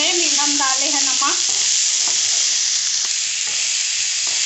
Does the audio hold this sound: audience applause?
no